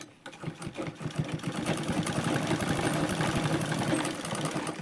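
Sewing machine stitching a hem seam, its rapid mechanical needle clatter starting after a brief pause and running steadily and close for several seconds.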